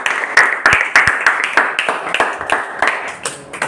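A small group of students clapping together in a classroom, quick, fairly even claps for a few seconds, close and lively, with no talking over them.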